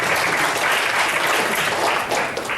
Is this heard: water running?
no